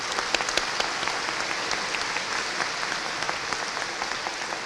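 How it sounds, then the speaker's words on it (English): Sustained applause from a large audience at a college commencement ceremony, a steady dense wash of clapping with no talk over it. "Please join me in applauding these generous supporters."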